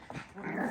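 Schnoodle puppy gives a short, quiet growl with a whiny edge, close up and alone, lasting under a second.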